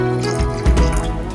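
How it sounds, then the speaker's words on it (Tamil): Water splashes and gurgles into a pot as it is filled for boiling in a home kitchen, with a near, steady liquid pour that swells briefly in the middle. "பேபி நான் எவ்வளோ தண்ணி போடுறேன், போதுமா பாருங்க."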